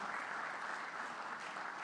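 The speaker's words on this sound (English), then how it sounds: "he deserves a round of applause" An audience at an economic summit gives a round of applause, heard as a faint, distant, even wash of clapping with no voices over it.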